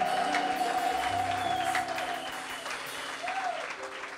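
A church congregation claps in praise of the Lord, a steady round of applause that gradually thins out, with a sustained tone and murmured voices underneath.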